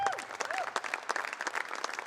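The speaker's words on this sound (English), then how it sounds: "let's give those guys a round of applause right up there" A crowd at a university men's basketball coach announcement applauds basketball players, moderately loud clapping with a few whistles rising over it.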